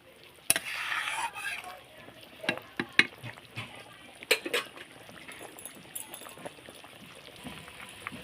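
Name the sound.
stirring fish curry after adding lentil dumplings (bori)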